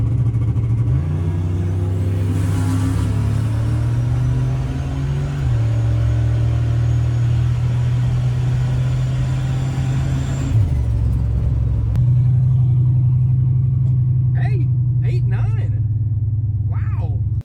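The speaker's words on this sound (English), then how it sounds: "I want to show you this drag racing clip real quick" A turbocharged V8 police car roars down a drag strip at wide open throttle, its loud engine note climbing through gear changes for several seconds before easing off, with a few faint background noises near the end.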